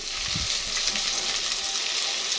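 Ingredients for chicken pochero are sautéed in a pan. A steady, moderate sizzling hiss continues throughout, with a brief stirring scrape near the start.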